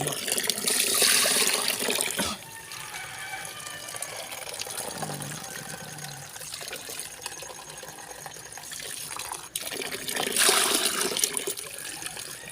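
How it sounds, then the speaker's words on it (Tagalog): Water poured from a container in a dim outdoor setting near a pig pen, running in two loud splashing bursts at the start and end with quieter trickling and background noise between. "Damihan na natin ang tubig"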